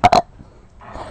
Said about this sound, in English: Oh, you just like burped on my hand.